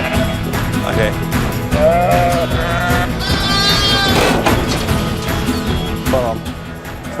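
Several sheep bleat on a farm, wavering calls rising over a busy background of shuffling and clatter, with a voice murmuring faintly now and then.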